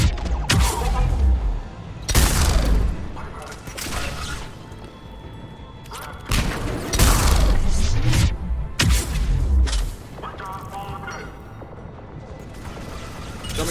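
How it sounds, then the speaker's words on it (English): Pistol shots in Mass Effect 3 Legendary Edition, a series of loud, punchy gunshot bursts with sharp impacts and mechanical clatter, spaced a second or two apart and standing alone. "Let me try out the pistol."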